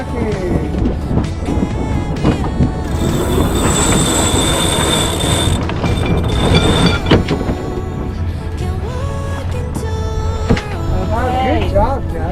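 A sailboat winch ratchets in quick clicking runs as the crew tacks on San Francisco Bay, mixed with wind, rigging creaks and several people talking nearby throughout.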